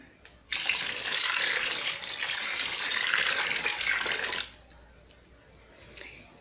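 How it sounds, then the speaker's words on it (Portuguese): Hot water pours steadily into a container for homemade soap, a loud, bright splashing gush lasting about four seconds before stopping, followed by faint handling noises. "agora eu vou colocar a água quente"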